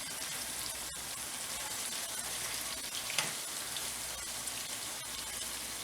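Sliced yellow summer squash sautés in a skillet with a steady, quiet crackling sizzle like light rain. A few soft clicks of stirring break the sizzle now and then, and no one speaks.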